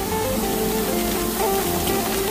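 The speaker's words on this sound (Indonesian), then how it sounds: "Untuk malam ini diguyur oleh hujan" Steady rain falls at night on a foggy, humid forest road in Kalimantan, a continuous dense patter of drops on the surface with no voices.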